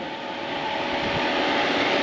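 A 2013 Nissan Xterra Pro4X with a six-speed manual sits idling, its engine giving a steady, broad whooshing hum that holds even and fairly loud from start to finish.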